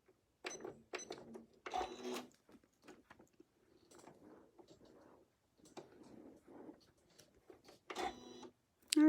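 A sewing machine stitches a quilt along a circular wreath template in short, stop-start bursts of mechanical whirring, with quiet pauses between runs and no voices.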